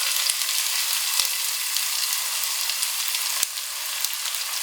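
Tomatoes and onions fry in a pan for vegetable biryani with a loud, constant close-up sizzle, broken by a few sharp clicks like a utensil tapping the pan.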